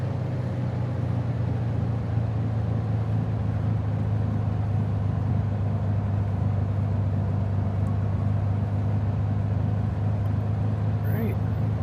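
A Piper Archer's piston engine throttled back to 1,000 RPM in Microsoft Flight Simulator 2020, a steady low droning hum that holds constant and loud throughout with no change in pitch.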